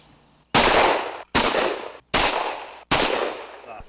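Four loud, close gunshots fired in steady succession at a backyard shooting range in the Gallatin Valley, each blast decaying briefly before the next.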